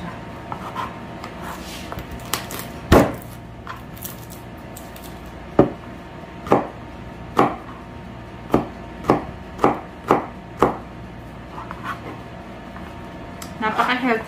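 A knife chops onion finely on a cutting board, giving a series of sharp, close knocks that settle into a steady rhythm of about ten chops, with a person speaking softly underneath.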